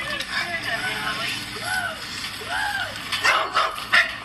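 Several dogs bark and yip in short repeated bursts, moderately close, mixed with people talking over them.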